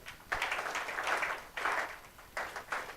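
Workshop audience applauding in bursts, a broad crowd of clapping hands that swells, dips briefly and swells again over a few seconds, with no talking.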